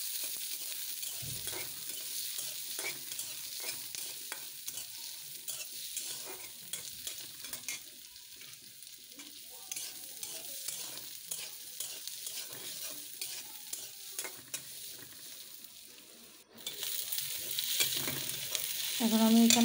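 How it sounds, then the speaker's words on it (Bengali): Phaisa dried fish (shutki) and dried chillies frying in a pan, giving a steady soft sizzle with occasional stirring scrapes throughout, growing louder and denser near the end. "এখন এগুলো আমি ভেজে নেব একটু।"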